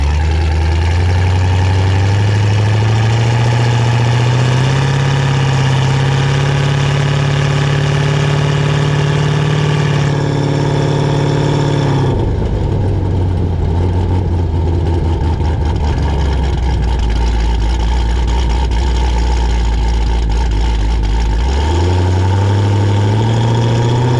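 A Chevrolet Camaro engine and exhaust idle loudly up close with a deep, steady rumble that dips to a lower, heavier drone partway through before rising again.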